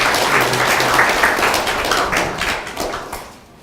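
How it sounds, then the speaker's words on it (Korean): A seated audience at a policy forum in a Korean assembly hall applauds to welcome guests, many hands clapping in a full, close patter that fades toward the end. "큰 박수로 맞이해주시면 감사하겠습니다."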